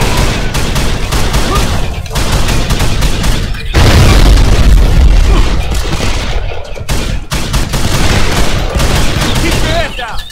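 Gunfire in the video game Call of Juarez: The Cartel, loud dense bursts of shots and booming blasts in rapid succession, nearly continuous throughout.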